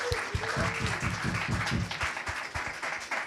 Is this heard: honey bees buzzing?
no